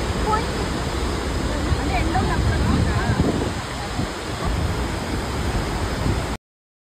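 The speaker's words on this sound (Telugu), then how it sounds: "ఇక్కడ ఒకటే గేట్ ఓపెన్ ఉన్నా కానీ ఎంత ఫ్లో వస్తుందో చూడండి" Water thunders from a single open dam gate at Srisailam, a steady, powerful roar of rushing flow mixed with wind buffeting the microphone, with voices talking underneath before it cuts off abruptly.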